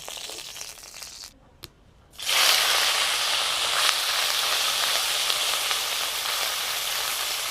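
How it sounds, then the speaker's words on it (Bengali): Fish frying in mustard oil in a hot wok for a prawn and papaya dish: after a brief near-silent pause, a loud, sustained sizzle erupts and continues steadily up close, with no talking. "কড়ার মধ্যে দিয়ে দিচ্ছি কিছুটা সরষের তেল প্রথমে আমি মাছগুলো ভেজে নেব"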